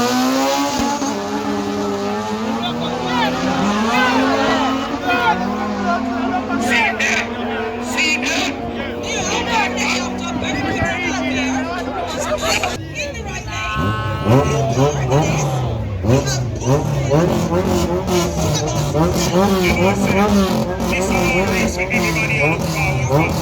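Race cars, including a red Honda Civic and a black car, roar through a side-by-side drag race at Vernamfield, engines revving loud and continuous with rising and falling pitch and tire squeal, under constant excited commentary.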